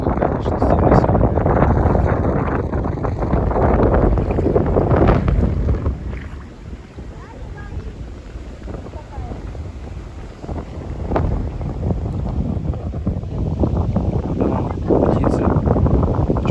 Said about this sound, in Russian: Ветер тут, конечно, сильный сегодня.